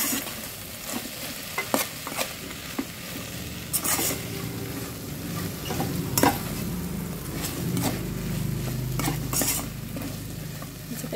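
String beans fry in a pan while a utensil stirs them, giving repeated sharp scrapes and clanks over a steady sizzle, close and fairly loud, with no voices.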